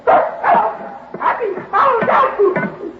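Dog barking as a sound effect in an old-time radio crime drama: a quick run of close, loud yapping barks and yips, with a voice mixed in among them.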